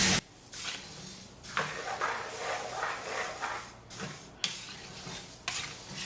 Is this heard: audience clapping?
no